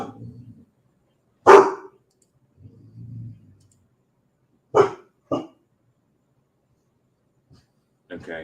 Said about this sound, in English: you're just barking at anything